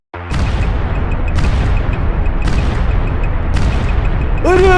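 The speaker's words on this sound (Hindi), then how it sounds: "अरे अरे बम फटा रे" Explosions in a Free Fire gameplay scene, heard as loud repeated booms about a second apart, each with a sharp crack at its start, layered over heavy rumbling, and ending in a brief burst of ringing tones.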